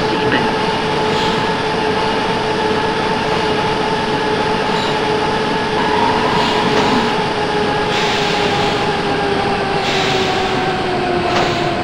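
A Berlin U-Bahn U2 subway train runs between Ruhleben and Pankow, a loud, steady roar of wheels and motors with whining tones that rise and fall, heard from inside the car.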